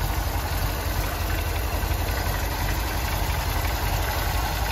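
A 1979 MGB Roadster with its 1800 engine idling, giving a steady, even mechanical rumble with a low pulsing beat that holds at a constant moderate level throughout, with no talking.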